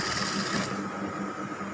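A sewing machine runs steadily while stitching a simple top, a continuous mechanical whir with a fast even rhythm, close and alone without talk.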